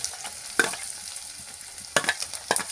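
Ginger and garlic sauté in oil for a Kerala mango-flavoured sardine curry, giving a soft frying sizzle with a few sharper stirring scrapes heard close by, with no voices.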